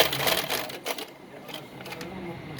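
A sewing machine stitches the V-cut neckline of a garment, a fast close mechanical rattle that eases off after about a second, with someone speaking over it.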